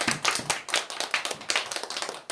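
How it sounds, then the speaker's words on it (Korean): Church congregation clapping to welcome a family coming forward during a service, a close, lively burst of hand claps with uneven, quick rhythm and no voices over it. "박수로 맞이하겠습니다."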